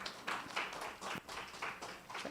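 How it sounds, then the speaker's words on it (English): A symposium audience applauds a speaker as she is welcomed, a faint, thin scattering of claps with separate bursts rather than a full roar. "So please give her a big round of applause as we welcome her."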